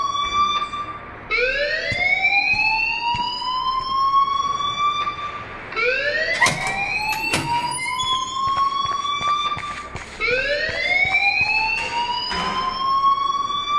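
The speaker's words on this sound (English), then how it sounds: "please turn off that alarm since that's your job" A rising, wailing electronic alarm sounds in repeated sweeping cycles from a school in the video game Life is Strange, loud and continuous, restarting about every four seconds with no talk over it.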